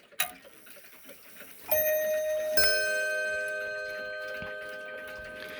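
A Junghans Bim-Bam hanger clock strikes its membrane gong: two loud, ringing bim-bam strikes about a second apart, each decaying into a long, sustained shimmering tone with no talk over it.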